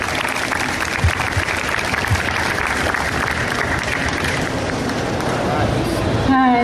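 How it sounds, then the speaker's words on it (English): Audience applause at a debate on California Proposition 19 during a hemp convention, loud and continuous clapping from a crowd filling the whole stretch, with a voice starting to speak right at the end. "Give us a round of applause."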